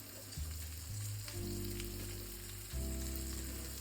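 A small amount of onion sizzles and crackles steadily as it lightly fries in a hot pan for chicken stew, with a low hum and occasional stirring shifts, no talking.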